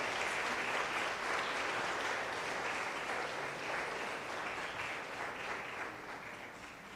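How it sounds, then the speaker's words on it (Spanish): Sustained audience applause at a conference on Japanese government scholarships, an even wash of many hands clapping, moderately distant and steady, fading slightly toward the end. "Le damos un fuerte aplauso."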